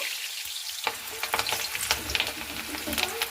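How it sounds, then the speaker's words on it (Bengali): Potatoes dropped into hot oil start a loud, crackling fry that suddenly swells and keeps spitting and popping close by, with some stirring scrapes and no voices. "আলুগুলো আমি ভেজে নিচ্ছি"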